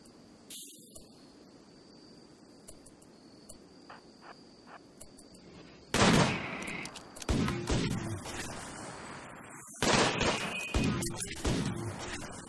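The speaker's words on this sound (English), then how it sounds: "he got a bruise from a full metal jacket round, so he probably got shot from Jared" Bursts of gunfire from a RimWorld video game battle, two loud cracking volleys over a steady chirping insect ambience, with no talking.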